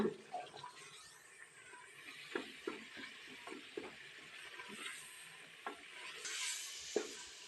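Spices fry in oil while a spoon stirs them, giving a soft steady sizzle with repeated scraping strokes of the spoon against the pan, fairly quiet and close.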